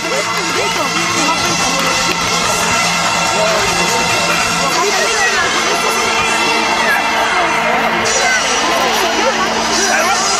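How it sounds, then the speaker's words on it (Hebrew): An audience at a sports club exhibition in Jerusalem cheers and shouts steadily, a dense crowd roar with children's voices prominent, loud and sustained throughout. "אז בואו ניתן לו מחיאות כפיים, מגיע לו"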